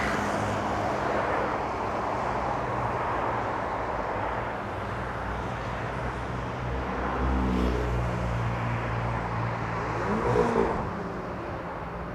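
A car drives past on a road beside a university botanical area, its steady engine and tyre hum swelling as it nears, then fading under a constant traffic wash.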